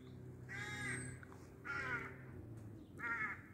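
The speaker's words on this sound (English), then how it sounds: "Some very noisy crows up there." Crows caw three times in evenly spaced harsh calls near a hilltop lookout called the Lump in Portree on the Isle of Skye, fairly close and clear against a steady low background rumble.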